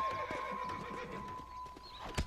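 Horse hooves clip-clop in a steady rhythm in the Red Dead Redemption video game, fairly faint under a constant background hum, with a sharp louder hit near the end.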